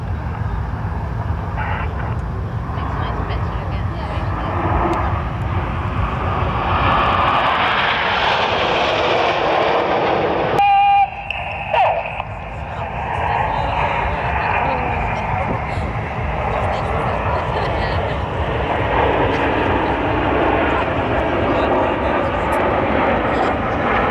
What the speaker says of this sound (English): Formation now turns towards you, just about to trail blue smoke this time for the Vulcan bend.